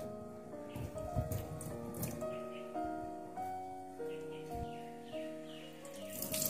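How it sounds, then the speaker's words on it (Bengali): Flattened rice (chira) is rinsed in water, with a steady trickle and splashing running throughout and close by, while a person talks over the washing. "চিড়েটা দেখুন আমরা ভালোভাবে ধুয়ে নিচ্ছি।"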